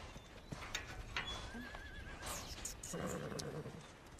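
Horses at a horse rescue ranch whinny, with a wavering neigh in the middle, while hooves clip-clop steadily nearby against faint outdoor background noise and no talking.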